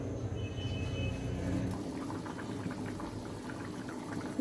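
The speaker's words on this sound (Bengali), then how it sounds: "ঝোল ফুটে উঠেছে" Chicken gizzard and liver curry broth with water boils in a covered pot, a soft, steady bubbling and simmer hiss, quiet and close, with no talk.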